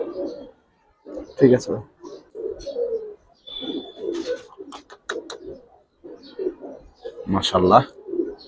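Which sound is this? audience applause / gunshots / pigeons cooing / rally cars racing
pigeons cooing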